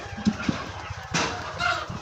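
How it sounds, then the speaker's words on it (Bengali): Sonali chickens cluck in short scattered bursts nearby inside a poultry shed, over a low steady background hum. "ওটা হচ্ছে আমাদের প্রায় 800 কমার্শিয়াল মুরগি সোনালী"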